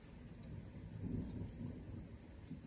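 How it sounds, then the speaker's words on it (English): Low thunder rumbles softly under a steady patter of rain, the storm faint and distant throughout the short stretch, with no voices. "And as the thunder's telling you goodbye,"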